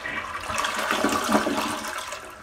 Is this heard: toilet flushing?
yes